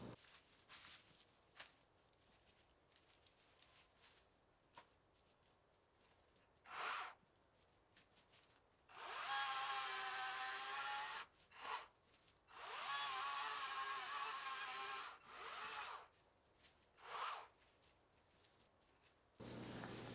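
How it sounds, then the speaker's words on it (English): Saw cutting through a fairly large balsam fir log in several bursts of loud, buzzy cutting separated by quieter pauses and rustling, close up. "It cut small branches well and cut through this fairly large balsam fir log effectively"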